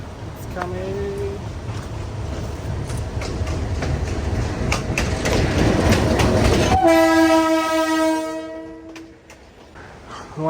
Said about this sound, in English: here's a good place to wait when the train is coming